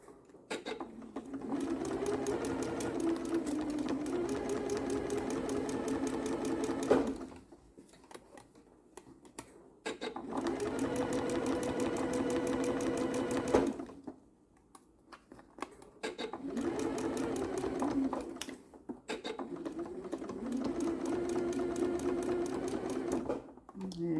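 Sewing machine stitching a curved seam on a quilt, running in three long bursts of rapid rhythmic stitching separated by short pauses, close and clear, with a voice talking quietly between runs.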